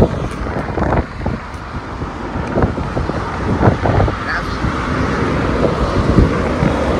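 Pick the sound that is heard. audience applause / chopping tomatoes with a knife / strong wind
strong wind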